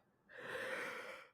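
A single tired yawn, a soft breathy exhale about a second long, close and quiet, alone without talk.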